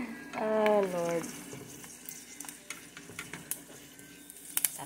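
Daing, dried fish, frying in a pan over low heat gives a soft sizzle with small crackles and pops. A voice is heard briefly at the start.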